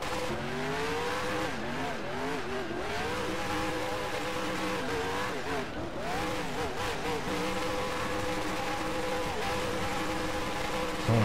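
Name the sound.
race car doing donuts and burnouts in NASCAR Racing 2003 video game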